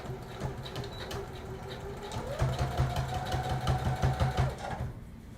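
A sewing machine stitches the back seam of a dress, running over zigzag stitching in a fast, rhythmic mechanical whir that speeds up midway, stays close and steady for a few seconds, then stops.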